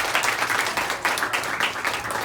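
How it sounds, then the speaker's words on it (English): An orchestra concert audience claps together in sustained applause, dense and fairly loud, lasting a couple of seconds. "So I think they deserve another round of applause"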